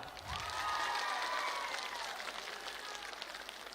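Crowd applause at a BJP public meeting in Shillong, a broad, dense wash of clapping with some cheering that swells and then holds steady, heard from a moderate distance.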